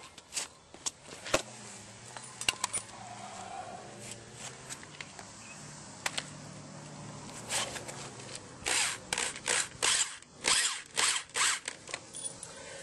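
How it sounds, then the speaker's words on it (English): A socket driver screws threaded anchors into concrete during construction of a college labyrinth. It starts with faint clicks and scrapes, then gives several short, buzzing power-tool bursts toward the end, all fairly quiet and close. "I come back with a socket driver. So it just screws these things into the concrete."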